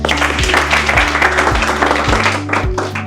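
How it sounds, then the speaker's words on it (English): Audience members clap together for a presenter, Masharia, at a talk on market strategy, a steady, loud round of many hands with a few sharper near claps, and a low hum underneath. "Clap for Masharia"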